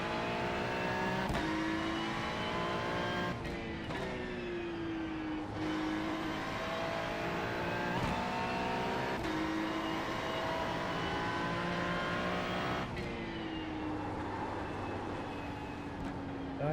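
A Ferrari race car engine roars steadily during practice laps at Charlotte in a racing video game, loud and close, its pitch sweeping up under acceleration and dropping sharply at several gear shifts and braking points.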